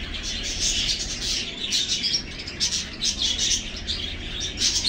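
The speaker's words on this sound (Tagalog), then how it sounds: "Ito yung mga alaga kong kalapati" Pet pigeons on a rooftop give repeated chirps and calls over a steady outdoor background, with bursts of wing flapping and soft bird sounds throughout.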